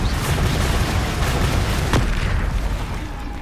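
Confringo fire spell blasts in a video game, heard as a dense, loud roar of rumbling explosive bursts that continues steadily, with one sharper crack partway through and no talking.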